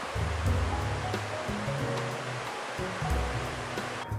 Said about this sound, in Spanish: Al sentir o som da agua, es señal de que você estará perto do lindo Salto del espíritu.